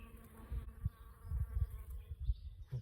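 Honey bees buzz around the hives during a colony split, a soft continuous hum with fluctuating low drones as individual bees pass near, with no voices over it.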